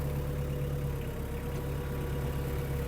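A Mitsubishi MT-246 mini tractor's diesel engine runs at a steady, even drone while the machine turns, close by with a constant low throb and no speech.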